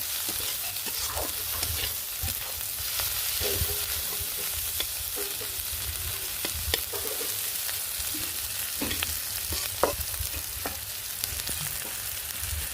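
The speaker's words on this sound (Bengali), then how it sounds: "চিংড়ি মাছ, পেঁয়াজ, আদা রসুন বাটা, জিরা বাটা সব কিছু মশলার সাথে দিয়ে ভেজে নিচ্ছি।" Prawns fry with onion, ginger-garlic paste and cumin paste in a pan, a continuous close sizzle with occasional soft stirring scrapes and light taps, steady throughout and with no voices.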